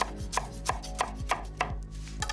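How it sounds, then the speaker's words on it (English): A knife roughly chops fresh coriander on a cutting board, striking about seven evenly spaced, crisp thuds close by with no talking. "And then I'm just gonna roughly chop into this"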